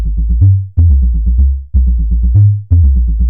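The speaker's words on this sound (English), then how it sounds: "I'm making this like saturated sine wave by pushing the resonance up on this filter" A loud, saturated sine-like synth tone made by pushing filter resonance up, with a ringing resonant edge, plays a repeating pattern of short plucked notes over a heavy low sustained bass.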